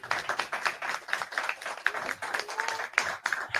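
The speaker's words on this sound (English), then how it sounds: "big round of applause again" An audience applauds and claps steadily at a Pan-African gathering, a dense continuous patter of many hands throughout, fairly close and lively.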